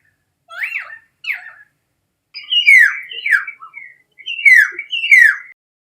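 Bird song in short whistled phrases, two brief calls first and then a pause, followed by a denser run of bright chirps, clear and close against silence.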